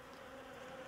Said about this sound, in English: I've already got these bees stirred up